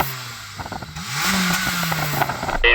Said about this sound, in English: can you rev up your engine, please?